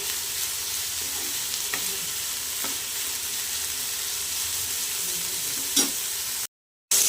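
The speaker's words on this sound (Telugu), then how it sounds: "బాగా వేగనివ్వాలి" Banana flower pieces fry in a pan with a steady, close sizzle and crackle throughout, a few sharper pops rising briefly above the hiss, ending in a short silence.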